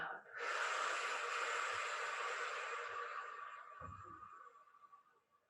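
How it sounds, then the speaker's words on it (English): A long, steady breath out through the nose or mouth during a yin yoga breathing exercise, close and hissing for several seconds before fading. "And breathing out."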